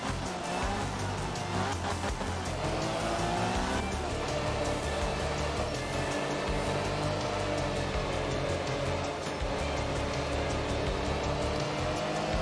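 A rally car driven in the video game Art of Rally, a MINI, its engine droning steadily with shifting revs and gear changes, loud and continuous throughout without clear breaks.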